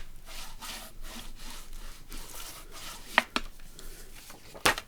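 A bone folder is rubbed back and forth over paper while a small journal is made, giving soft rhythmic scraping strokes, faint and close, with a couple of sharp light taps.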